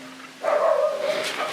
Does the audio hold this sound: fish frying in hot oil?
no